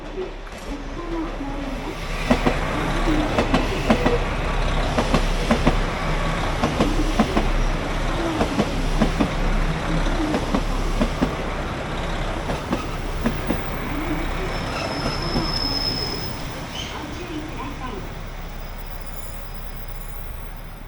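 A KiHa 261 diesel express train pulls in to a stop in Japan, its engine rumble and clattering wheels building then easing, with a brief high squeal toward the end while a voice talks over it.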